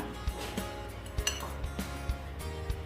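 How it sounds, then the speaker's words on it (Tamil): Chicken popcorn flour coating being mixed in a bowl for a KFC-style recipe, heard as soft, irregular clinks and scrapes of a utensil against the bowl, quiet and close with no talking. "இப்போ நான் இதை இது மிக்ஸ் பண்ணி கொள்கிறேன். இதை கொஞ்சம் நல்லா மிக்ஸ் பண்ணிக்கோங்க."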